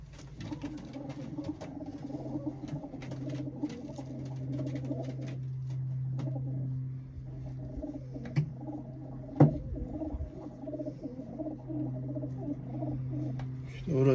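Racing pigeons coo steadily in a low, continuous drone, close by and fairly loud, with a few sharp knocks and rustles over it and no talking.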